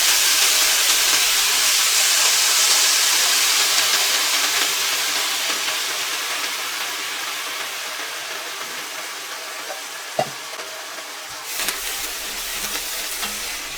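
Spinach goes into hot oil with cumin seeds in a kadai, bursting into a loud, dense sizzle that slowly settles to a steady hiss, with a couple of brief stirring knocks near the end.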